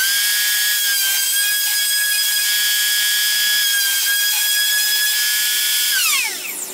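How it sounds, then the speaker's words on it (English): A router fitted with a quarter inch roundover bit shapes the edge of a freshly drilled hole in wood for a butter knife and breadboard, a loud steady high whine that holds, then spins down at the end. "I have a quarter inch roundover bit in there, and we're gonna use that to clean up the hole we just drilled"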